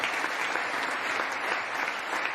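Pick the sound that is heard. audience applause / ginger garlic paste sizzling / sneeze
audience applause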